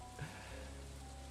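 Steady rain falls in Stardew Valley, a continuous soft hiss of drops on surfaces that runs evenly throughout, with a brief low thump near the start.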